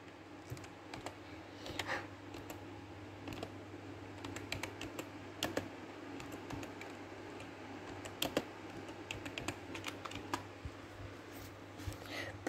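Someone types on a computer keyboard up close, with irregular soft clicks and small bursts of keystrokes over a quiet low background hum, and nobody speaks.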